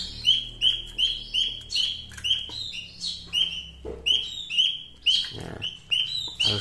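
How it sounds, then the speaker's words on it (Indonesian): Baby birds in a nest chirping insistently, a close, rapid run of high, repeated cheeps in a steady pulsing rhythm, with a few brief rustles and bumps underneath. "Nah, ini dia nih anak burungnya."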